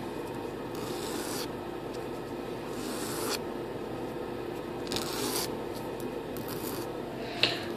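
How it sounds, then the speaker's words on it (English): A small Airbus A380 model winglet part being sanded: close, soft rubbing and rasping strokes in uneven bursts of a second or so, with short pauses between them and a small tap near the end. "We will sand just to smooth it."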